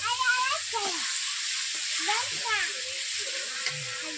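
Garlic and onion fry in a pan with a soft, steady sizzle and hiss, overlaid by intermittent warbling, voice-like tonal sounds nearby.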